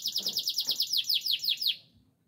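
A caged songbird of ordinary, non-contest class sings a rapid series of bright, repeated chirps, about a dozen sweeping notes in quick rhythm, close and clear, then falls silent.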